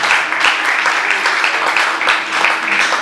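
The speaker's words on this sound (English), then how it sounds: "Can I have a round of applause, please?" An audience at a teaching reality show grand finale claps steadily and loudly, a dense even wash of many hands lasting a few seconds, no voices over it.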